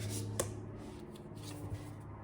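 Soft, brief riffles and taps of tarot cards being shuffled by hand, quiet and close, in short bursts over a low background hum.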